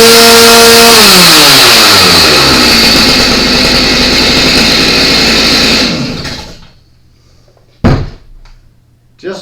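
A Stihl MS310 chainsaw, which had a no-start problem, runs loud and close with its engine revving and then dropping back before it shuts off. A couple of sharp knocks follow in the quiet after.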